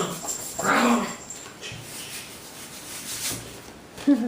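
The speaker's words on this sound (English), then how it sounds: "My dog's playing with the cat." A tiny dog plays with a cat indoors, giving a short nearby whimper and a few soft yips, with rubbing and scuffling sounds around them.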